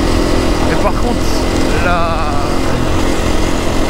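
An off-road motorcycle engine runs loud and steady throughout, with a continuous droning roar and some talk mixed in.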